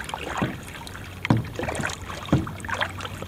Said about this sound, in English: Just a slow meander paddle down through here.